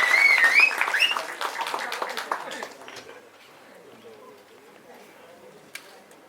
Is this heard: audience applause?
yes